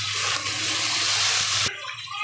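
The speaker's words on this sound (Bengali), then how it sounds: "এখন একটু পানি দিয়ে দিই" Water pours steadily into a curry pan of fried onion, green chilli and ginger-garlic paste, a loud continuous splashing gush that stops abruptly near the end.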